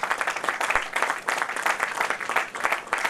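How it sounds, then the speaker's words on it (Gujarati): Crowd applause greets the release of a member directory at the 75th-anniversary inaugural function of the Jamnagar Factory Owners Association. Dense, steady clapping fills the room for the full stretch, with no voices on top. "આપણે બધા તાળીઓથી આપણા મેમ્બર ડિરેક્ટરીના આ વિમોચનને વધાવીશું."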